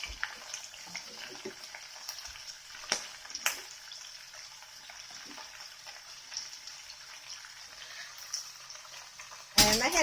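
Pumpkin leaves, shoots and flowers stir-frying in a pan give off a steady, soft sizzling hiss with scattered clicks and stirring knocks, ending in a louder sudden burst of noise near the end.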